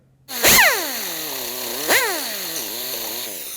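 A power grinder whines loudly nearby, grinding a rivet flush on a 2003-2007 Honda Accord hood latch, spinning up with a rising pitch, dipping and rising again under load in a steady metallic drone.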